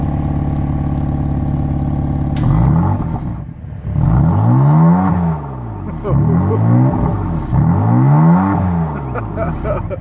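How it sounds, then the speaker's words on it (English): A new BMW M4 in Silverstone paint on 19-inch M wheels idles, then its engine and exhaust rev hard in three repeated swells that rise and fall, loud and close. "Let's do a little rev time."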